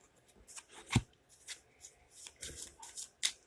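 Tarot cards being shuffled and cut by hand, a run of quiet riffling flicks and soft snaps with a sharper slap near the middle and another near the end, close and alone.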